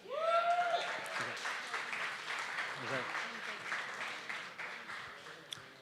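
Applause from an audience at a film awards ceremony, fairly quiet and scattered, running under a voice speaking over it.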